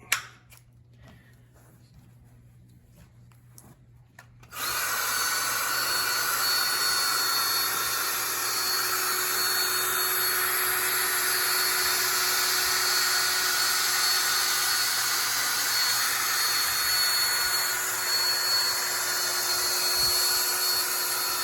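After a few quiet seconds, a high-pitched power drill polishing a 2007 Toyota Camry Hybrid headlight with a 3M restoration kit spins up and runs continuously at a steady whine, close and loud.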